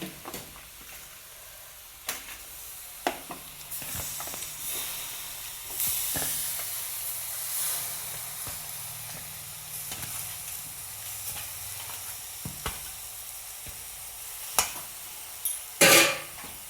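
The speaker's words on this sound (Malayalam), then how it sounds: "അടുത്തത് നമ്മൾ ചിക്കൻ ഇടാൻ പോവാണ് കേട്ടോ." About three kilograms of chicken pieces sizzle in a hot pan for a home chicken curry, a steady hiss broken by scattered clinks and knocks, growing busier toward the end.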